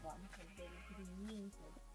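Sheep in a video game bleat in short wavering cries over a steady low game hum, with a couple of percussive clicks, close and clear.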